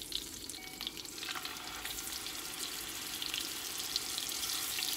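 Venison patties fry in a cast iron pan with a steady, soft sizzle and crackle that continues evenly, close but fairly quiet, with no talking.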